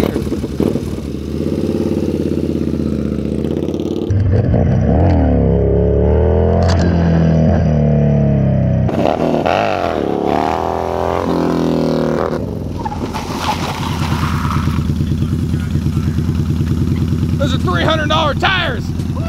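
A Yamaha Bolt motorcycle engine revs up and down while it drifts around a parking lot, loud and close, its pitch climbing and falling with voices talking over it.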